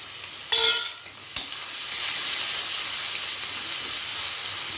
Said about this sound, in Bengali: ওই তেলের মধ্যে আমি পেঁয়াজ কুচি দিয়ে দিব।